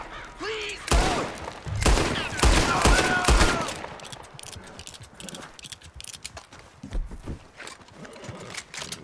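Horses ridden at speed in the video game Red Dead Redemption 2, with hoof clatter, snorts and bursts of gunfire in a busy mix alongside shouting voices, loudest in the first few seconds and then settling.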